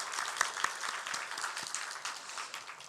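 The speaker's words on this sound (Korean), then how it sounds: "우리 축복의 박수 해줄까요?" A church congregation claps in blessing during an ordination service, a soft, steady patter of many hands with a few sharper claps standing out, slightly distant, no voices over it.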